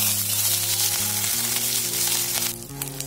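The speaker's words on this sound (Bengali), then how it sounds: "এবার আমি বেগুনটা ফ্রাই করে নিচ্ছি।" Eggplant slices fry in oil for a vegetable shukto, producing a bright, continuous sizzle that sits over gentle background music and eases off toward the end.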